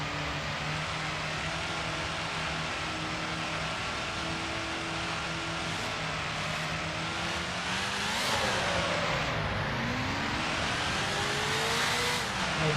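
Mercedes-Benz W19 race car engine in a 1955-era Grand Prix racing game at Spa-Francorchamps, a continuous buzzing engine drone holding pitch, then dipping and climbing again as revs drop and rise through a gear change.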